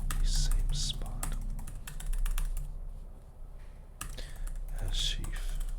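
Rapid clicking of a computer keyboard fills the room in dense bursts with a brief lull midway, close and moderately quiet, no voices.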